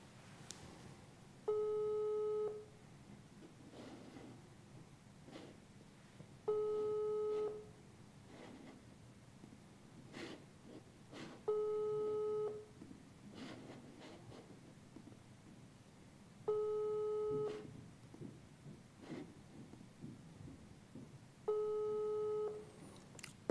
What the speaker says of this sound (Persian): جواب نمیده. بار دیگه تماس میگیریم دوستان عزیز.